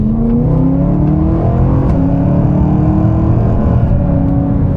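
A stage 2 tuned, roughly 450 bhp BMW E92 M3 with its S65 V8 engine pulls hard under acceleration, a loud steady rising drone with harmonic bands climbing through the gears, heard close and continuous with no talking.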